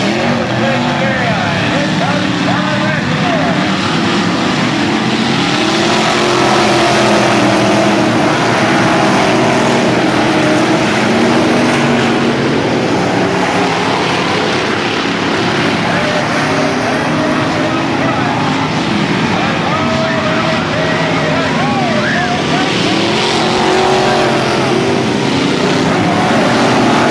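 Race trucks roar around the dirt track at Bayou Speedway in 1996 with a dense, continuous engine drone that rises and falls as they pass. A race announcer talks steadily over the engines.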